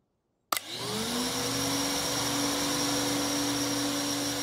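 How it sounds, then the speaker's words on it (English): A cartoon vacuum cleaner switches on abruptly after silence and keeps running with a steady, loud whine and hum. "Now you can use the vacuum cleaner."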